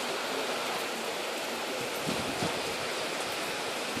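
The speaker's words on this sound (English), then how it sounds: "Rain falling and I on the road." Steady, dense rain pours down during a tropical storm in Barbados, a constant broadband hiss with no breaks and no voices.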